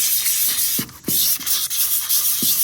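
Fine 400-grit sandpaper rubbed in circles over a wooden icon board, a steady close scratchy hiss with brief soft pauses and a few faint knocks.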